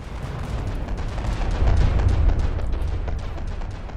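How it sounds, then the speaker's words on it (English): Missile impacts pound a warship during a video game naval battle, producing a dense, continuous rumble of booms and blasts that swells louder midway through the barrage. "And here come the missiles."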